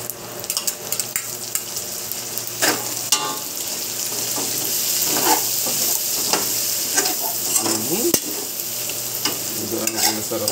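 Pork adobo with fermented black beans (tausi) sizzles steadily in a lightly oiled pan, with repeated stirring scrapes and clacks of a utensil over a continuous frying hiss, close and fairly loud with no talking.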